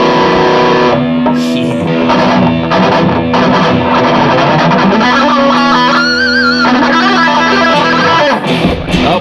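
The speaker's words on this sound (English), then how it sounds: "Get some distortion going." Loud electric guitar through a Fulltone OCD distortion pedal and Mesa amp, riffing with sustained chords and bent notes, dense and continuous without pause.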